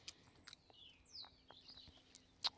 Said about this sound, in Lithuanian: Paukščiai čiulba, tokia ramybė